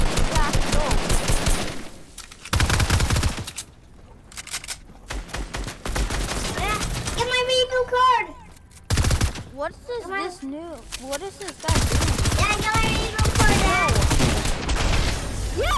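Rapid bursts of Fortnite gunfire crack out in several loud clusters, alternating with stretches of excited overlapping speech from players urging each other on.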